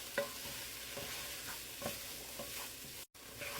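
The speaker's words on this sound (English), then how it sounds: "And just give it a good stir." Vegetables and potatoes are stirred in oil in a pot, giving a soft, steady sizzle with a few distinct scraping strokes at a close distance, and no talk.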